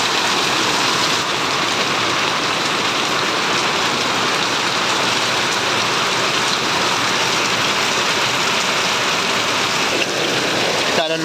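Heavy rain pours down steadily and loudly in a continuous dense wash of noise, with no break across the whole stretch.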